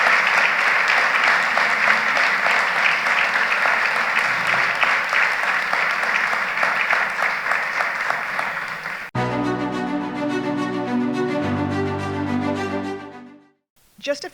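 Sustained audience applause fills a large hall at a civic meeting of river city and town leaders, dense and even for about nine seconds before music cuts in and carries to the end.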